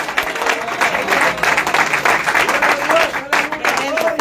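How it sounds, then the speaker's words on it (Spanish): Sustained applause from a large church congregation, steady clapping filling the space, with a preacher's voice speaking over it. "Dale ese aplauso al Señor"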